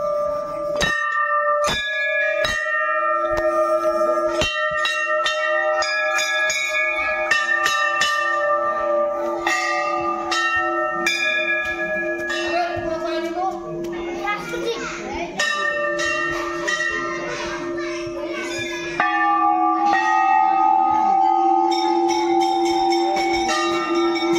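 A temple bell rings repeatedly in clear, resonant strikes at Maa Ghanteswari temple in Chipilima, its tones layering and sustaining, with faint children's voices and bustle in the background.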